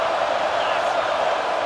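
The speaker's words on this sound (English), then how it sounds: "It's early, but this crowd is fired up. Listen to this noise here." A stadium crowd roars in the EA Sports College Football 26 video game, a dense, steady wall of cheering noise held at an even, loud level throughout with no breaks.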